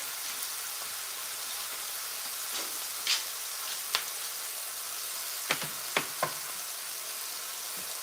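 Cubed steaks fry in a pan with a steady, soft sizzle, broken by a few sharp pops and crackles near the middle and end. No one speaks.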